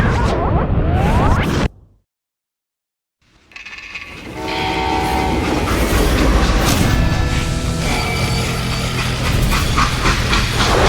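In the Western shooter Call of Juarez: Gunslinger, a freight train rumbles loud and close with clattering wheels and whistle-like tones. A brief total silence cuts in early, then the rolling, clanking train noise resumes and continues to the end.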